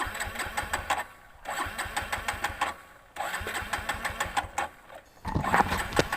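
A 110cc Honda Dream Yuga motorcycle, out of petrol, cranks repeatedly without catching: three close, rapid chugging bursts of the starter separated by brief silent pauses, with no speech.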